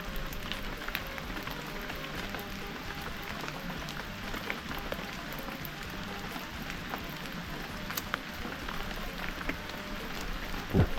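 Steady rain falls outdoors in rural Thailand around a sheltering tree, a continuous even patter with no pauses and no voices.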